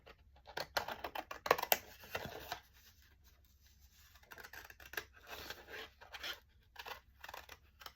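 Scissors cut a paper vase stencil for art journaling, giving quiet, uneven bursts of snipping and rustling paper with pauses between cuts, close and unaccompanied by talk.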